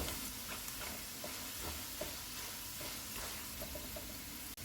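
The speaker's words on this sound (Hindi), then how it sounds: "1 मिनट के बाद सारे मसाले डालेंगे, इनको भी 1 मिनट तक भूनेंगे।" Ground spices frying in a pan for achari vegetable pulao, a quiet continuous sizzle with faint scraping stirs throughout, recorded close and with no one talking.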